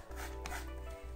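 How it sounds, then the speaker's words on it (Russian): Frozen pie dough is rubbed across a grater in a brief, close rasping stroke over a low background hum. "Достали наше второе тесто с морозилки и натираем его."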